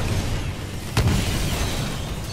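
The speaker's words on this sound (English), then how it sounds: "Mortar specters are still hitting the harvester" Mortar spectre shells exploding against the harvester in Titanfall 2, a single sharp blast cutting through a dense, loud battle rumble.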